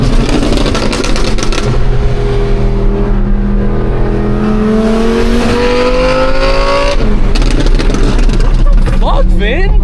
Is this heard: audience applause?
no